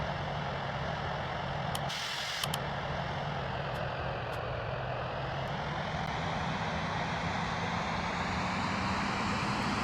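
Airliner engines spooling up for takeoff from runway 23 in the RFS flight simulator game: a steady, loud engine roar with a whining tone that gradually rises in pitch, plus a couple of faint clicks.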